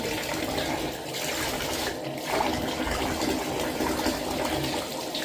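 Tap water running steadily to bathe a Maine Coon cat, a continuous broadband gush filling the whole stretch at an even, fairly loud level, with no talk over it.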